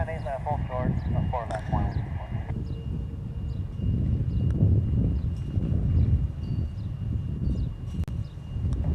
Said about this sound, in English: There's a flight landing right now.